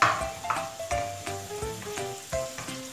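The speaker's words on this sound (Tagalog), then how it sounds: "ito na yung baboy natin na sinangkot siya ko sa mantika" Steady sizzling and crackling of pork frying in hot oil, with occasional clinks of a utensil stirring the pan, close by.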